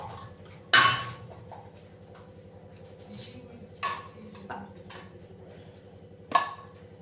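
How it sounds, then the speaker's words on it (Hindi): Dishes and utensils are set in place at home by a new dining table, producing a few sharp clinks and knocks spaced apart over a steady low hum. "बर्तन को तुरंत सेट कर देने से अच्छा लगता है, तो वही बर्तन सेट कर रही हूँ।"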